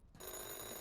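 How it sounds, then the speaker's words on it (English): Telephone ringing in the Police Chief Simulator video game, a bright electronic ring that starts abruptly after a brief silence and holds steady and loud. "We're going to answer the phone really quick"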